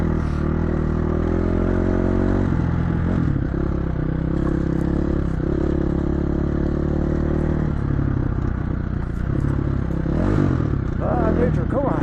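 A dirt bike engine drones loud and constant while riding a cow trail through Idaho desert sagebrush, with rattling and gear-shift changes in pitch as someone talks over it.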